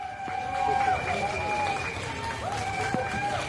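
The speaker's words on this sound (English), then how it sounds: "It's a rare moment when citizens are clapping to greet an EU leader." A crowd of citizens claps and cheers to greet EU leader Ursula von der Leyen in Litomyšl, Czech Republic. The applause is steady and moderately loud over a murmur of voices, with sustained tonal sounds running through it.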